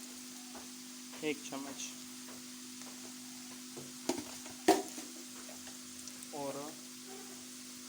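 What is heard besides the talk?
Kashmiri red chili frying in pan for pumpkin curry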